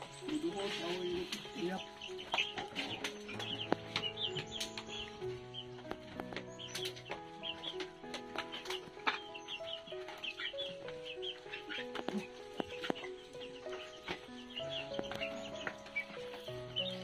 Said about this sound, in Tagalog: So may mga manok din silang alaga guys